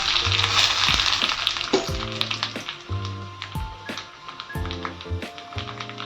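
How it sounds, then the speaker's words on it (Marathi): Curry leaves dropped into hot tempering oil after the gas is switched off, for an instant mango pickle: a crackling sizzle that starts strong and thins out, with scattered sharp pops and light clicks. "गॅस बंद केल्यानंतर त्यामध्ये आपल्याला कढीपत्त्याची पानं घालायची आहेत"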